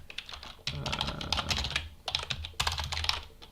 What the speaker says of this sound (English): I don't know why I'm typing that, just feels important, so I'm typing it.